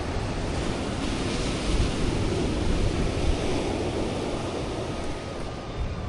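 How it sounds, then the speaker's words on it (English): Steady, roaring wind buffets the microphone outdoors during a DJI Neo drone flight, a broad continuous rush with slight gusts, loud and close, with no voices. "it's a little bit windy"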